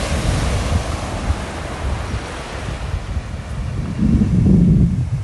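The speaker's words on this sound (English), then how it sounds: "And the ocean waves." Ocean surf rolls in at Laguna Beach on a sunny winter day, a continuous broad wash of breaking waves with steady wind noise, swelling louder near the end.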